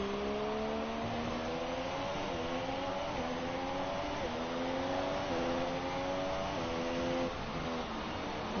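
A racing car engine in a racing video game, on a China circuit, screams at high revs, climbing and dropping through repeated upshifts in a steady, loud drone with no one speaking.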